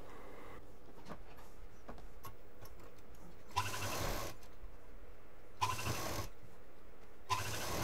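A sewing machine stitches a fabric doormat in three short bursts of rapid mechanical whirring, separated by quieter pauses.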